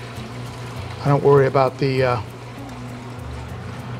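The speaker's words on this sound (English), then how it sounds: "Let's get some water in there." Tap water pours into an aquarium canister filter in a steady, moderate trickle that runs throughout, with someone speaking briefly over it.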